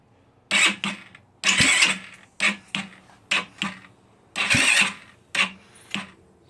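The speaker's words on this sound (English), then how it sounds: "Let's go and turn it on. Turn this engine on, hold down the brake lever." A GY6 scooter engine is cranked with its electric starter in repeated short bursts, each a loud whirring grind lasting under a second, with brief pauses between, close up and with no talking.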